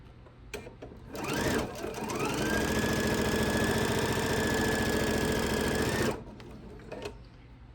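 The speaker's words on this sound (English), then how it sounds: "So I'm just going to re-sew that real quick." Sewing machine re-stitching a quilt block seam, a steady close whir running for about five seconds after a few short starts, then stopping.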